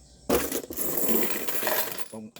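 Coins tumble and clatter as loose small change is dropped at a small neighborhood sari-sari store, a dense metallic jingling that runs for about two seconds before settling.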